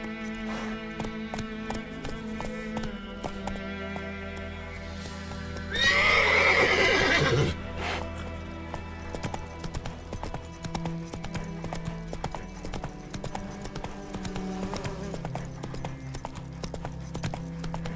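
Roach, the horse in The Witcher 3 game, trots with steady clip-clop hoofbeats and lets out a loud, shrill neigh partway through, with the hooves carrying on before and after amid game ambience.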